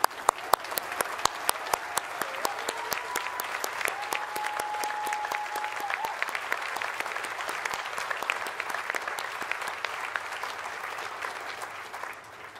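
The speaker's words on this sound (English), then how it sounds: "So I think we should give them a round of applause." A large graduation audience at the University of Aberdeen breaks into sustained applause for the graduates, dense steady clapping lasting several seconds and carrying on alone without speech.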